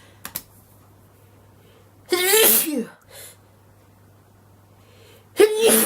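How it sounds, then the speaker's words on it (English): Two sharp, loud sneezes from a person, one in the middle and one at the end, separated by quiet with a faint click at the start and a low steady hum underneath. "one thing I don't like doing is sneezing"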